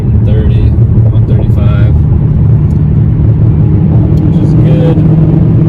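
A Dodge Redeye fitted with a new carbon fiber driveshaft drones at high speed, a steady loud engine and road roar lasting throughout while someone talks over it.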